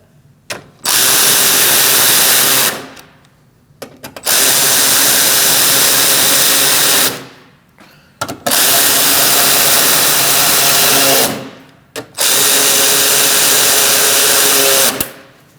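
A power tool tightens bumper bolts on a 2016-2019 Chevrolet Cruze 1.4L during a cooling fan replacement, running in four loud, sustained whirring bursts of about two seconds each, separated by short pauses.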